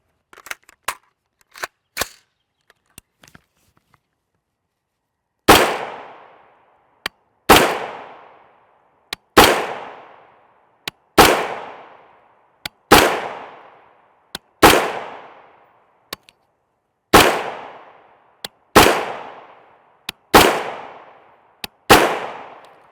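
Sharp 5.56x45mm rifle shots firing 77-grain OTM Black Hills MK262 Mod 1 ammunition through a 1-in-7 twist barrel ring out a dozen times at a steady pace, each with a decaying echo, after a few light clicks.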